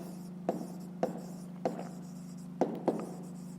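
Pen strokes on paper during a fifth-grade math exercise, a handful of distinct scratchy taps and short strokes spaced irregularly over a steady low hum, close and fairly quiet, with no talking.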